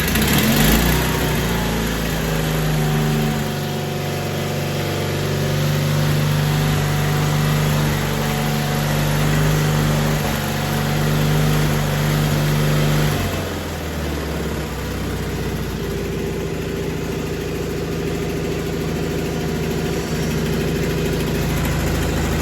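The original Onan engine of a John Deere 420 garden tractor idles steadily with a low, droning hum, then shifts to a slightly lower, rougher tone partway through; loud and close, no talking.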